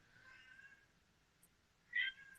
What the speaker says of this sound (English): That's a cat. It's in heat.